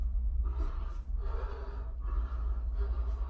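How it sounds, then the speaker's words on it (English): A man breathes heavily and audibly in a played-back recording, loud, ragged breaths in three or four long surges with short pauses between, over a steady low hum. "He's breathing heavily."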